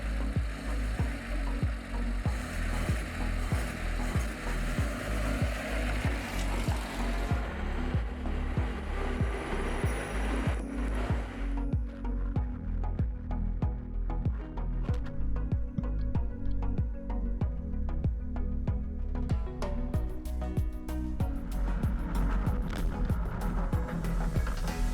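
A 1927 Cadillac Fleetwood is driven slowly through a U-turn, its engine giving a steady low rumble throughout with rattling mechanical and road noise layered over it.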